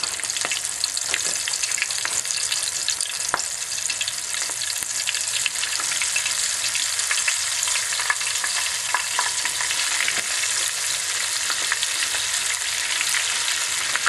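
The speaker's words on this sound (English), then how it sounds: "we'll go ahead and drop these babies in the grease and let them do what they do" Beer-marinated oysters frying in hot grease, a steady dense sizzle and crackle with scattered pops that holds evenly throughout, close up, with no voices.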